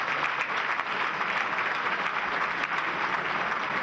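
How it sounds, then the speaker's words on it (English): Crowd at a Glasgow Warriors versus Harlequins pre-season friendly rugby match applauding after a try, steady sustained clapping filling the stadium with no clear voices on top. "Warm appreciation from the crowd as Strauss leads out."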